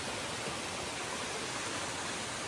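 Fast-flowing river water rushes over rocks in a steady, even hiss that stays constant and fairly faint throughout.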